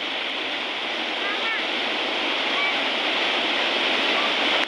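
A stream in Rajgad near Pune, waded across by schoolchildren who have no footbridge, flows with a steady, moderately loud rush and a few faint high whistles over it.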